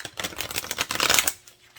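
Tarot cards being shuffled by hand during a spiritual reading, a close, crisp burst of riffling and flapping that lasts about a second and a half, then fades away, with no talk over it.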